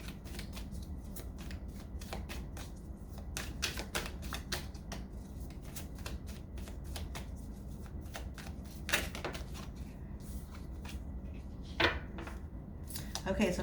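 Tarot cards being shuffled and drawn, with a steady run of soft riffling flicks and occasional sharper snaps as cards are pulled, close and fairly quiet.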